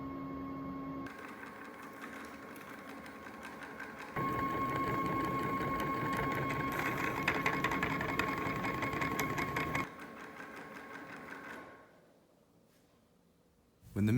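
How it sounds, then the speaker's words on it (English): A blender motor spins its blade to mix treat ingredients, a steady whirring hum that rises in pitch and loudness, runs for several seconds, then winds down and stops. "The blade is then driven to process ingredients into treat mix by pressing and holding the blend button"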